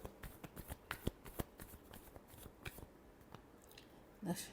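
Tarot cards being shuffled in a rapid series of crisp, close riffling snaps and flicks, with a brief louder rustle near the end and no talking.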